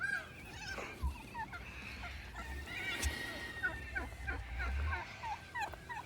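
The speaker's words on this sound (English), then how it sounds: "As you can see, there's turkeys, there's cows, ducks, chickens, all sorts of creatures." Turkeys gobble repeatedly on a farm among other animals, several rapid warbling calls scattered across the moment, with low rumbling background noise and occasional distant animal sounds.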